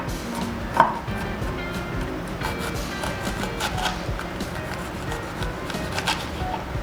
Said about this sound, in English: garlic that I'm going to chop up and use